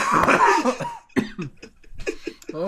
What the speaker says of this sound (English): I'm over here coughing.